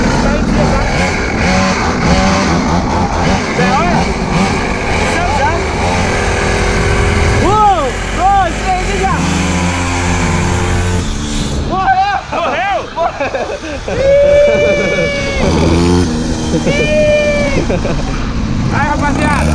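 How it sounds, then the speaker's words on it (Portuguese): Two mini motorbikes race side by side, their small engines whining and rising and falling in pitch as they rev and pass, loud and close, with people talking over them. "Os motores vão frente na frente."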